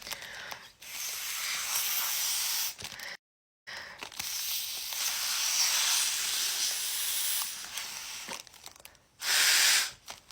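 Gas hissing steadily into a birthday balloon, a continuous airy rush that stops briefly and resumes, ending with a stronger, louder burst of hiss; no talking.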